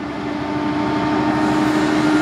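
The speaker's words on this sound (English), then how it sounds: "And then the train that heads down to Prince George comes through here too as well." Freight train rolling through a rail yard on a line toward Prince George, a steady close rumble with a sustained tonal hum, continuous and even throughout without voices.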